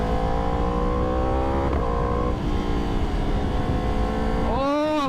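A Yamaha R1 superbike's engine revs loudly and close by, its pitch rising and sliding through repeated throttle blips, with a sharp climb near the end, over a steady rumbling background.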